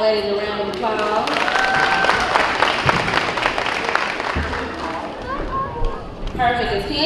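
A school awards audience applauds third and fourth grade students honored for reading, language and attendance, a dense, steady burst of clapping filling the room for several seconds, with cheers and voices mixed in throughout.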